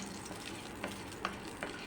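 Bay leaf, cinnamon and whole cumin frying in oil for a fish curry, a quiet steady sizzle with a few soft stirring scrapes, no talking.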